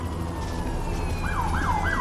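Police siren wailing in the Amazing Spider-Man video game, its rising and falling tone sweeping repeatedly over a steady low rumble of game background noise, fairly loud and with no talk.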